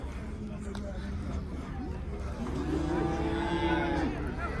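A cow with her calf at the Chim livestock bazaar in Qashqadaryo lets out one long, drawn-out moo, close and loud over the crowd murmur and nearby voices of the market.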